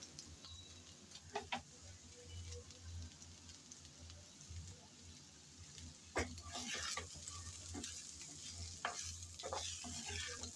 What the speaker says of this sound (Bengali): ধনেপাতা দিয়ে কিছুক্ষণ নেড়ে চেড়ে ভেজে নিলে রেডি হয়ে যাবে মজাদার আজকের ব্রকলি ভাজা